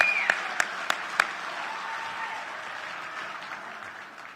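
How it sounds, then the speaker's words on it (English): A banquet audience at a 16-inch softball Hall of Fame dinner applauds veterans, a steady, moderately loud roomful of clapping with a few sharp close claps at the start, fading gradually. "let's give these people a round of applause"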